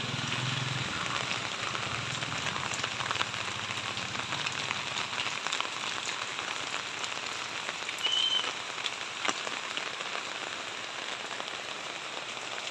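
Heavy rain ahead of an approaching typhoon pours steadily onto surfaces beside a house, a dense, even hiss with scattered drop hits and no talking.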